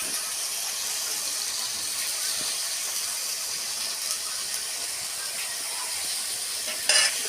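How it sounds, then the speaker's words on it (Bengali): Ginger and garlic fry in oil over a clay stove, giving a soft, even hiss of sizzling throughout with a brief brighter burst near the end and no voices. "আবারও কিছুটা তেল দেয়া হলো এবার আদা রসুনটা এর মধ্যে ভেজে নেওয়া হবে"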